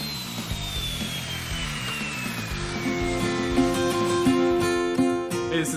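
Wood being cut with a saw guided along a Square Cut guide arm, a steady close whirring drone that grows louder and takes on a sustained ringing whine partway through, with no talk.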